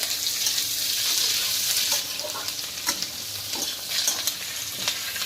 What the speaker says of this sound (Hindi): तेल में गया है जीरा, अब गई इसमें प्याज